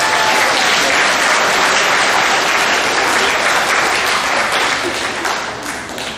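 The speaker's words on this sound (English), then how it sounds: "Give them a big round of applause." A large crowd at a middle school awards assembly claps loudly and continuously, the applause holding strong before gradually tapering off toward the end.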